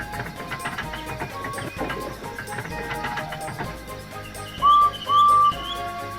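Two short, high steam engine whistle toots near the end, following a stretch of busy music-like background.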